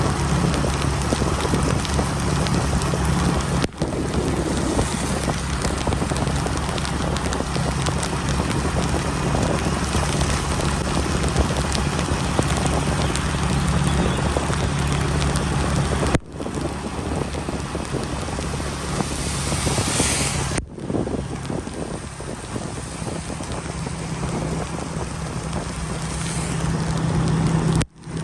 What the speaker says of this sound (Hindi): बारिश बहुत तेज़ हो चुकी है,